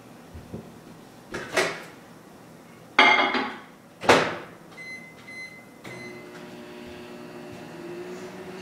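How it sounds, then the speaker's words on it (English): Clunks and clatter of a microwave door and a bowl, a few electronic beeps, then a steady low hum of the microwave running. "you put the bowl in the microwave for 30 seconds"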